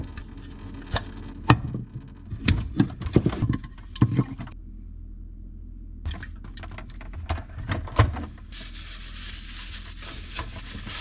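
Water drains from a home reverse osmosis filtration system in irregular drips, splashes and trickles, with some rubbing and squishing of bags nearby, then a softer steady flow toward the end; no one speaks.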